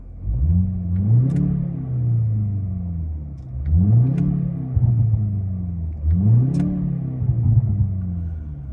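Engine sound from a 2024 BMW X2 M35 piped into the closed cabin rises in three repeated revving swells, a deep mid-range rumble climbing and falling with each burst, heard from inside.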